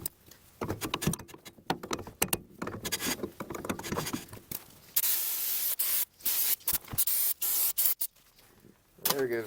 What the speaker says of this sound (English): There goes a half bottle of brake clean.